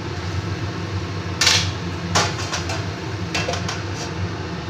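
A metal lid settles onto a pot of pabda fish curry topped with chopped coriander, giving a few separate clanks and rattles over a steady kitchen fan hum, with no talking.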